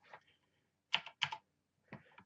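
A computer keyboard is typed on in a few sparse bursts of clicking keystrokes. The taps are close and crisp, with short silences between them.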